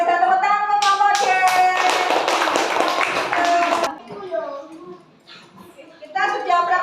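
Elementary schoolchildren in a classroom clap together in a loud burst of applause lasting about three seconds, then children's voices and light taps follow.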